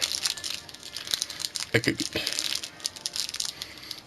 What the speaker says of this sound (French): La magie du scotch, même sur les emballages de gachapon, il m'emmerde celui-là.